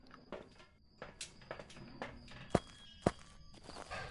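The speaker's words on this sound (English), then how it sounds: "Let's hear those footsteps and see if that tells us something." Ghost footsteps in the game Phasmophobia, roughly eight soft steps spread over a few seconds, with two sharper, louder thuds near the end. No one speaks over them.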